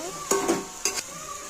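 A spoon stirs salt into a cooking dish in a pot, giving two brief scraping strokes close by over a soft background sizzle, with no talking.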